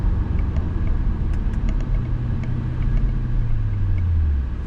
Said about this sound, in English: This car has a lot of engine braking.